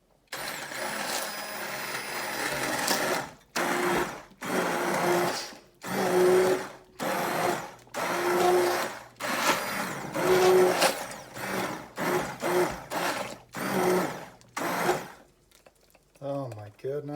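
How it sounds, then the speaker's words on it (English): An immersion blender purées a tomato ragu sauce, whirring loudly up close in a long run followed by about a dozen short bursts with brief pauses between them; a voice is heard at the end. "immersion blender time."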